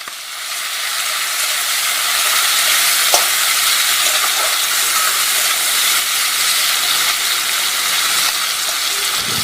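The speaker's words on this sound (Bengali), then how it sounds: "নুন হলুদ দিয়ে খুব ভালোভাবে ভেজে নেব।" Prawns frying in a wok with salt and turmeric, a loud, dense, continuous hiss and sizzle close by, with faint stirring scrapes and one sharp knock early on, no voices.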